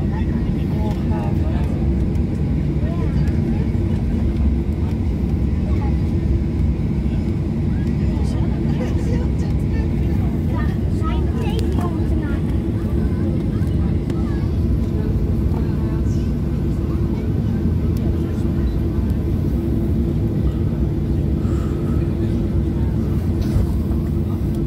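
A Transavia airliner takes off from Faro, its engines producing a steady, heavy low roar that holds for the whole stretch, heard from inside the cabin.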